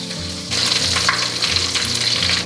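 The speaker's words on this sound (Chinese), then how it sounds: "炸这个鳗鱼全程就是中火炸，不要给它降下来或者升高" Battered eel pieces deep-fry in hot oil held at medium heat, bubbling and sizzling steadily with a bright, crackling hiss that swells after a quiet start and carries on without any talk.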